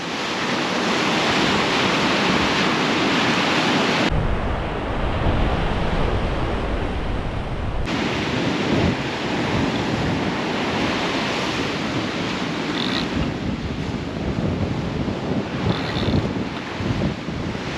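Continuous loud roar of ocean surf breaking on a beach in the early morning, with heavy wind buffeting the microphone and no voices.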